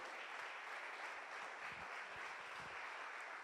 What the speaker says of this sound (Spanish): Dale un aplauso al Señor, si puedes creerlo.